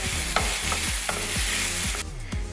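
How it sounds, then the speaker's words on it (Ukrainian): Steady sizzling of mushrooms frying in a pan, with repeated scraping strokes of a utensil stirring at a regular pace. "Гриби підсмажуємо на сковорідці."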